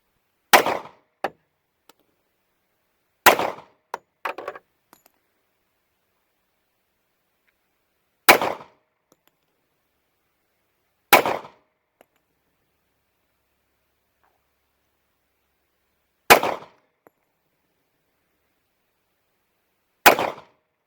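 A Star PD .45 ACP pistol fires six widely spaced single shots, each a sharp crack followed by a brief ringing clang from steel targets, loud and isolated against silence.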